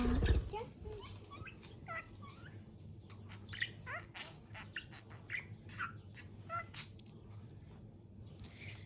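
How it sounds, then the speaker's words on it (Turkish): A small pet bird playing with its ball chirps and squawks repeatedly in quick bursts close by, with a muffled thump at the start and low background noise throughout. "Küçük cici kuş. Cici kuş."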